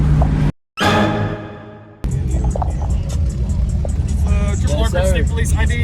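A car engine runs steadily while driving, a loud low rumble that briefly drops out and then continues beneath someone talking.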